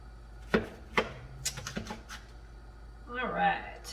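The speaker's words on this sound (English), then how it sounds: "Now I'm just kind of going back over to get the onion more finely cut." A knife finely chopping onion for homemade chicken ravioli, several sharp separate cuts on a board early on, then a softer rustling, scraping stretch near the end, close and moderately loud with no talk.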